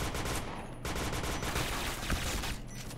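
Rapid bursts of gunfire in a shooting video game, dense and continuous over a few seconds at moderate loudness.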